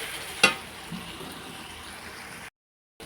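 Masala spices sizzle in hot oil in a pan: a steady, close frying hiss with one sharp tick early on, then cuts off into silence near the end.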